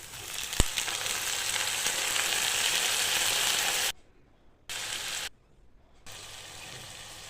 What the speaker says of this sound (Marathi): मटण स्वच्छ धुवून घ्यायचं ते तसंच तेलामध्ये टाकायचं